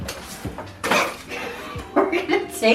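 A metal pie pan holding a pumpkin pie is set down on a kitchen cooling station, giving a few close clattering knocks and clinks with a louder thud near the end.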